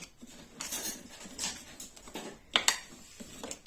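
A spoon stirs roasted almonds that have started releasing their oil into a paste, as when making sellou. Soft scraping and patter run throughout, with a couple of sharper clinks midway, fairly quiet and near.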